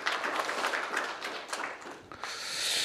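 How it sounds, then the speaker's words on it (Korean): An audience at a Korean discussion forum applauds a speaker with a dense patter of many hands clapping at once. The clapping is moderately soft and slightly distant, dips briefly near the end and then swells again. "박수 한번 보내주시면 감사하겠습니다"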